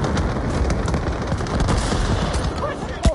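Rapid gunfire crackles through a Battle Warriors Riot Squad shootout on PS4, a dense sustained volley of overlapping shots with a sharper single blast near the end.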